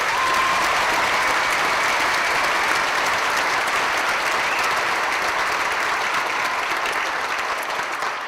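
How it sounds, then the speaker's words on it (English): Graduation ceremony crowd gives veterans a long round of applause, a loud, uniform roar of many hands clapping that holds steady for eight seconds without speech. "Let's give them another round of applause"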